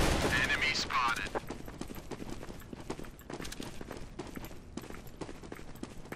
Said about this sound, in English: I keep hearing fucking footsteps everywhere.